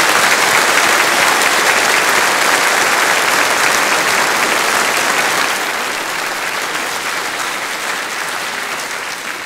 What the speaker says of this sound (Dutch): ik vind best dat ze best nog een applaus mogen hebben voor deze avond